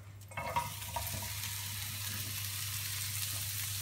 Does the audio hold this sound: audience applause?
no